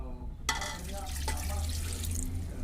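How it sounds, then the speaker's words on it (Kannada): Water poured from a glass into a cup while making tambittu, a steady liquid pouring and splashing sound that starts abruptly and runs continuously at moderate volume, close by. "ಈ ಕಪ್ಪಿನಲ್ಲಿ ನಾನು ಈ ಲೋಟದಲ್ಲಿ 2 ಲೋಟ ನೀರು ತೊಗೋತಾ ಇದ್ದೀನಿ."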